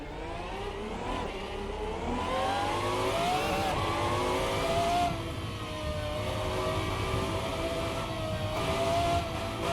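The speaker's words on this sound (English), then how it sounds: "So, engine fired here on the Zonda R." Pagani Zonda R race car engine in a sim racing game, revving hard and steady, rising and falling in pitch with shifts, continuous and close throughout.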